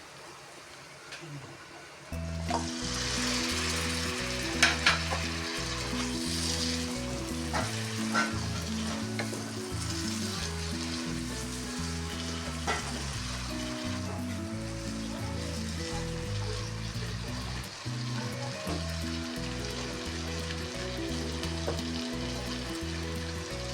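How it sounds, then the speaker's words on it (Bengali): Dried rita fish sizzling as it fries in a cooked-down spice paste, a steady crackling hiss broken by scraping stirs, moderately close. "এখন আমি সুটকি দিয়ে দেবো এটা মাছের সুটকি"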